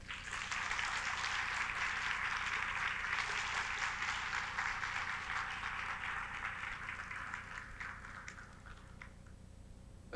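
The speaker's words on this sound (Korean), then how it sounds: "두 분한테 용기를 주면서 박수 한번 부탁드릴게요" Audience applause for two newly appointed deputy directors at a Woori Bank Vietnam ceremony, a steady wash of many hands clapping throughout that thins slightly toward the end.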